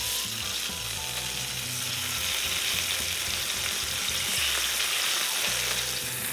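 Chicken breast frying in a pan with garlic gives a loud, steady sizzle that stays close and continuous throughout, with no one speaking.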